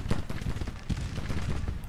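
Distant rifle and artillery fire crackles through a Civil War strategy game battle as a dense, rumbling volley of overlapping shots, steady for two seconds with no talk.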